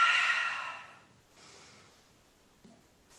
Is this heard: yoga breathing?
yes